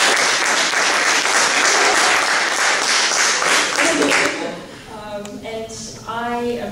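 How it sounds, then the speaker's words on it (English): An audience at an award ceremony claps in a dense, sustained round of applause that fades after about four seconds, followed by a person speaking. "Another round of applause."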